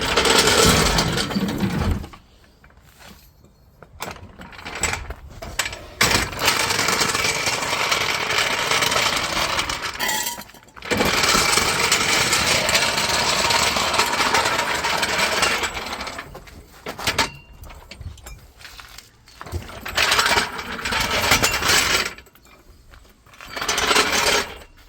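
Car jack raising a Toyota MR2 Mk3: a loud, harsh mechanical whirring in long bursts separated by short pauses, close by, with no voices.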